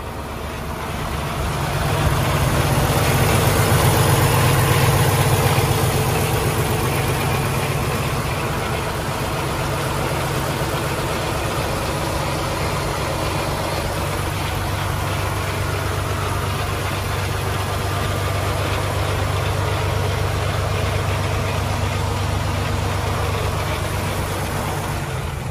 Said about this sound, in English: Don't really want to idle your vehicle if you don't have to